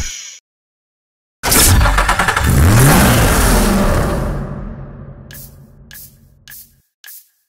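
Nissan 370Z Roadster in a racing game, its engine roaring loudly as it revs and accelerates, then fading, followed by a few short sharp bursts.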